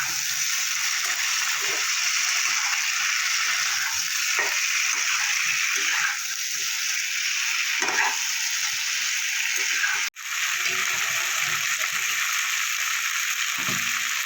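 Kohlrabi and potato sautéing with spices in a pan, a steady loud sizzle with occasional stirring scrapes and one sharp clink, continuous throughout with no voice.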